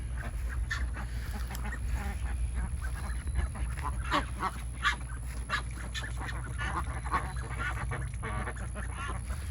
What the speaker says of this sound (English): Y'all are big ducks now.